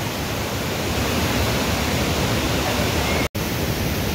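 Fast water pours down Bhatta Falls in Uttarakhand in a loud, constant roar that stays even from start to finish, broken only by a split-second dropout near the end, with no talking.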